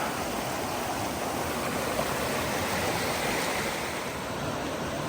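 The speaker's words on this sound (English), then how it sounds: "There's a nice little cascade here. This is not either of the falls, but flows right into this pool." A small creek cascade spills over rocks into a pool near a falls hike in Balsam Grove, North Carolina, making a steady, loud, close rush of water with no break and no voices.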